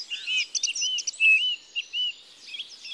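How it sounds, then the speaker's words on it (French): A Eurasian bullfinch sings in the open, giving a run of short, soft whistled notes and chirps at moderate loudness, with no voices or other sounds. "Voici le magnifique et rare bouvreuil pivoine."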